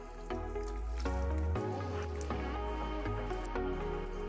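Soaked tamarind pulp mashed by hand in water, with a few wet squishes and drips spaced through a short, quiet stretch against a steady low background hum.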